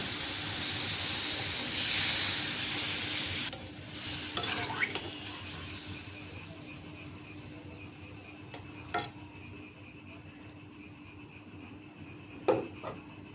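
Broth being poured into a pan of simmering hilsa head-and-tail curry with tomato and eggplant: a loud hissing sizzle for the first few seconds, dropping to a steady low bubbling simmer with a few clinks of a utensil against the pan.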